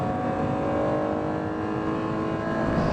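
A first-generation Acura NSX's naturally aspirated V6 sustains a loud, steady high-rpm howl above 6,000 RPM on VTEC, heard continuously and close without any speech.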